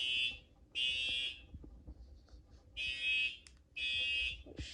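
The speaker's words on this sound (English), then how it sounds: "The smoke detectors are kind of delayed, so it takes a minute for them to go off." Smoke detectors sounding during a fire alarm test, with loud, piercing electronic beeps in repeated half-second bursts separated by short quiet gaps.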